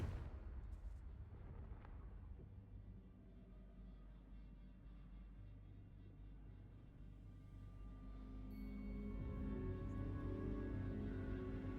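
A Confringo fire spell bursts in the video game Hogwarts Legacy as a deep, rumbling explosion that rolls on for several seconds and swells again toward the end, with no voices.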